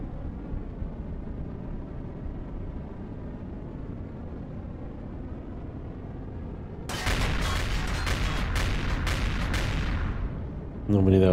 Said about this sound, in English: it's music to my ears to hear a flak cannon destroying drones